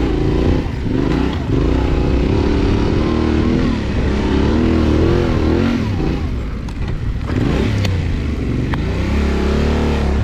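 A Kawasaki KLR dual-sport motorcycle at an off-road enduro keeps up a loud, close engine drone for the whole stretch, its pitch rising and dipping as the rider works the throttle on rough ground, with no talk over it.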